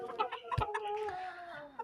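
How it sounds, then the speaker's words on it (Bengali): A rooster and hen just let loose in a small home poultry pen cluck in short, close calls, with a brief sharp knock partway through. "এখন হচ্ছে টাইগার মোরগ দুইটা ছাড়ছি মোরগ মুরগি দুইটা ছাড়ছি"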